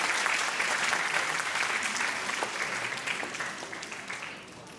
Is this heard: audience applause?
yes